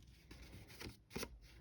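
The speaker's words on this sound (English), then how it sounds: "I take a pair of my scissors, I flip it over, and I just kind of brush it" A pair of scissors, flipped over, brushes fuzz off a cutting blade, making faint, soft scratchy rubs in a few short strokes. The sound is close and quiet, with no speech.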